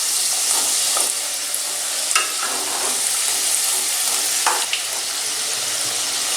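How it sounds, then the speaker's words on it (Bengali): Chicken samosas frying in hot oil, a steady dense sizzle running throughout with a few soft scrapes and clicks as they are gently turned over in the pan, close and fairly loud. "এক পিঠগুলো ভাজা হয়ে গেছে, এবার আমি সামোসাগুলো আস্তে আস্তে উল্টে দিচ্ছি।"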